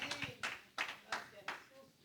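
Congregation applauding during a church service, bursts of hand claps rising and falling in several waves, fairly close with voices mixed in.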